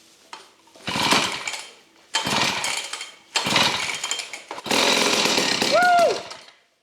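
Vintage McCulloch chainsaw engine being kicked over with the choke on: several short bursts of sputtering two-stroke engine noise separated by pauses, then a longer sustained run, loud and close, with a brief squeal near the end.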